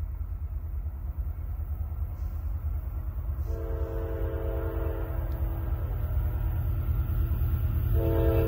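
An eastbound Norfolk Southern intermodal freight train rumbles heavily through a road crossing, sounding a long horn blast midway and starting another near the end over the continuous low roar of the cars.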